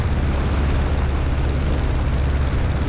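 Pietenpol light aircraft in flight on approach, its propeller engine giving a loud, steady, close droning roar that fills the whole stretch without any talk.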